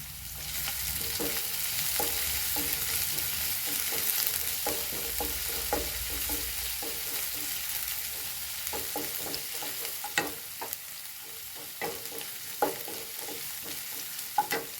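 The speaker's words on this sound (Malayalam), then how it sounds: "നമുക്ക് ഇഞ്ചി ഇട്ട് കൊടുക്കാം പച്ചമുളക് ഇട്ട് കൊടുക്കാം ഒന്ന് ഇളക്കി കൊടുക്കും" Hot oil sizzles steadily in a pan with ginger and green chilies frying as a utensil scrapes and stirs with irregular clicks and taps, no voices present.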